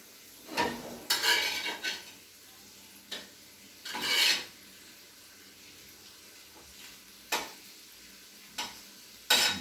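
Bacon browns in a pan, with a low, faint sizzle broken by several sharp scraping and stirring bursts as the pieces are rolled around.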